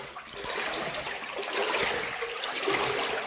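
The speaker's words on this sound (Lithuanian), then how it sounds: "nu jau stiprėjo vandens daugiau" Water rushes through a culvert tunnel, a steady, echoing hiss and trickle of rising flow that holds at moderate loudness without talk.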